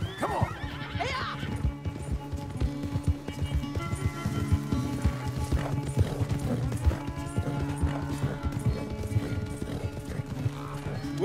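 Horses galloping hard in a Red Dead Redemption 2 race, rapid steady hoofbeats and occasional whinnies, loud and continuous over a busy backdrop of race sounds.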